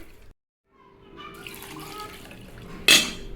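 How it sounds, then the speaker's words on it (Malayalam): Water swishes and splashes as rice is rinsed in a container, ending with a louder burst of running water. "അത് നന്നായിട്ടൊന്ന് കഴുകിയെടുക്കാം"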